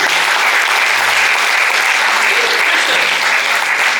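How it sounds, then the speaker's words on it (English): An audience at a book launch gives a big round of applause for Prince Mabheka Zulu, a dense, continuous wash of clapping that holds steady at full volume throughout. "how about a big round of applause for Prince Mabheka Zulu?"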